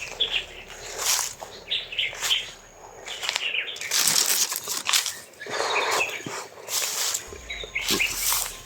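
Birds chirp and tweet in a mountain forest, with repeated bright calls coming from several directions at varying distances over a soft background murmur, and occasional faint rustling or flapping.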